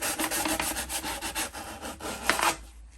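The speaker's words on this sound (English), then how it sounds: "you're going to want to go ahead and sand off a little bit off the edge" Sandpaper rubs back and forth over the cut end of a PVC pipe, roughing the edge before gluing; steady, close scraping strokes continue for about two and a half seconds, then stop abruptly.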